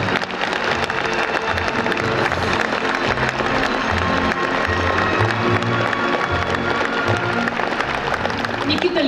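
Dense, continuous clapping from a large concert audience in the Moscow Kremlin fills the space, steady and loud throughout, with a murmur of voices mixed in.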